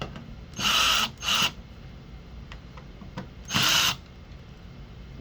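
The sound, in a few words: screwdriver removing circuit board screws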